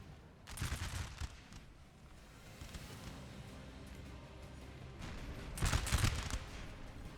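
Musket volleys crackle across the battlefield in Napoleon: Total War, at the Battle of Auerstedt, as distant rolling bursts of massed fire with two heavier volleys separated by a lower steady rumble.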